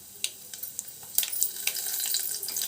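Cumin, mustard seeds and dried red chillies frying in hot oil, giving a faint, crackly sizzle with scattered small pops that thickens into a steady hiss.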